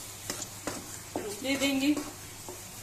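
Moong dal halwa with sugar is stirred and roasted in a pan, giving a soft sizzle and repeated scraping strokes up close, with someone speaking briefly over it.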